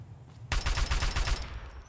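Full-auto fire from a G3 rifle in Fallout New Vegas, a sudden loud burst of rapid, evenly spaced shots lasting about a second, close and punchy before trailing off.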